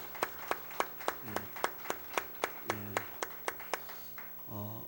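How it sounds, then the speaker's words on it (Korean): Rhythmic, evenly spaced claps come from a church congregation during Sunday worship, faint and somewhat distant, a steady run of sharp beats with brief voice sounds near the end. "우리 박수 한번 치겠습니다"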